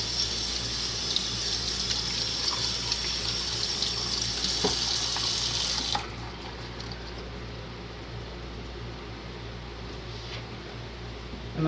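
Kitchen tap water runs steadily while peppers are washed, a close continuous hiss that cuts off about halfway, leaving a quieter room hum.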